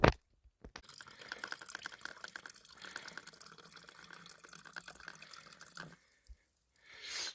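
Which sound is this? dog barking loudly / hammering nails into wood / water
water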